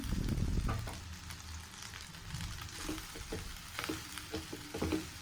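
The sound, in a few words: sautéing onions with turmeric and salt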